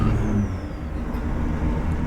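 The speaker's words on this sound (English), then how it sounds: "Just rev it out to 2100 and shift up." A truck engine in American Truck Simulator revs out and shifts up a gear, a steady low droning rumble that holds constant and close throughout, with no talking over it.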